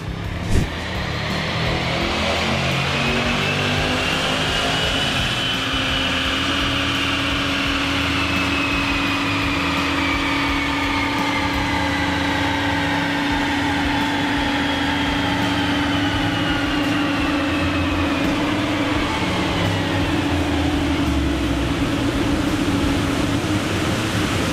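A Range Rover SVR with the Typhon upgrade runs strapped down on a dyno for horsepower and torque measurement. Its engine holds a loud, continuous roar as the pitch slowly rises and falls across the run, with no talk over it.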